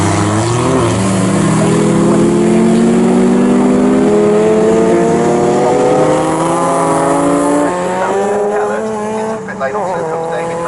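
Race cars at Snetterton in a BRSCC Clubsport Trophy race roll into the pit lane, several engines droning and revving close by in overlapping, shifting tones, with a commentator talking over them throughout.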